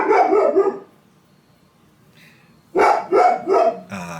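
A dog barks several times up close, falls quiet for a couple of seconds, then lets out another loud run of barks.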